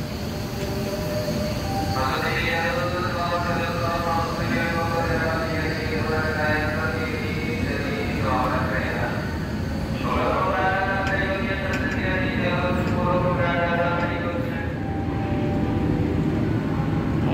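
Interior of the rearmost car, car 8, of the KA Menoreh passenger train from Jakarta to Semarang, with a constant loud rolling rumble and a voice speaking over it for much of the time.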